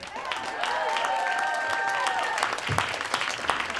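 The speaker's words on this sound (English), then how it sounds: "One big round of applause again to Major" Audience applause at an evening poetry and reflection event, a steady crowd clapping at moderate distance with some tonal voices or whistles over it, then scattered louder claps near the end.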